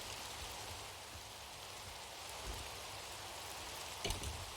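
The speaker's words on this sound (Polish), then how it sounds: "ale nadal pada deszcz" Steady rain falls in Minecraft as a soft, even hiss of drops with no letup, faint and constant, with one brief louder patter near the end and no voices.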